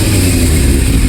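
A Yamaha Thundercat 600R motorcycle engine roars loud and very close in a brief, steady burst of dense mechanical noise, with no voices.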